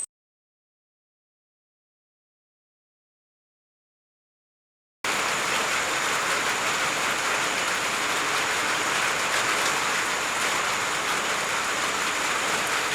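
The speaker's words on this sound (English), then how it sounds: "for the last 6 or 7 hours it was raining like crazy. And it still is raining." Heavy rain pours steadily in a dense, even hiss after a few seconds of silence, continuing unbroken and fairly loud with no voices, at night during a cycling trip on a rough road in South America.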